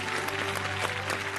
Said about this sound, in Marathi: अनिकेतसाठी एकदा जोरदार टाळ्या